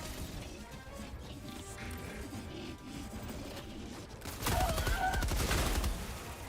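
Machine gun in Helldivers 2 with game clatter and impacts, then a louder, denser burst of firing near the end, close and harsh amid busy battle noise.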